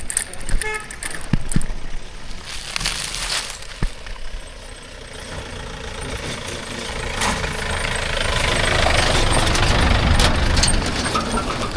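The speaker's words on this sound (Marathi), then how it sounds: "हे समोर एक गाडी येते, आपल्याला ती गाडी क्रॉस करायला जागा द्यायला लागेल." A vehicle approaches and passes on a rural road near a dam while a cyclist pulls aside. Engine noise builds steadily and grows louder toward the end, with some clatter and short bursts of noise.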